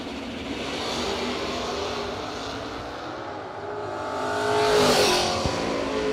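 Camaro race car at a drag race at Cedar Falls roars loudly and steadily, its engine note swelling to a peak near the end as it passes close.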